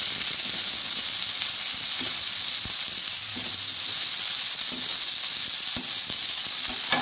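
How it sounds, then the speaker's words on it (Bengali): Spring onion and cauliflower frying in a pan with salt and turmeric, a steady close sizzle with occasional soft stirring knocks throughout. "দেখে দেখে এগুলোকে সুন্দর করে ভেজে নেব।"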